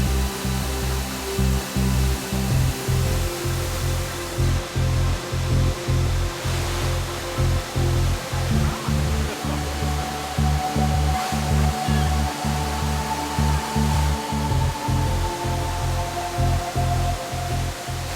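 Steady, loud broadband roar of a waterfall in lush jungle rainforest, rushing continuously without pause for the whole stretch, with a low rumbling undertone and no voices.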